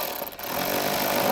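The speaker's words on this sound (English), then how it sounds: "It's going to be a 10mm. We're going to remove that bolt." A power tool whirs in a brief, dense, continuous burst while backing out a 10mm bolt inside a Toyota 4Runner during a subwoofer and amplifier install, heard up close with no voices.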